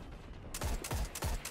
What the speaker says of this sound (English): Oh, it's a cluster rocket attack.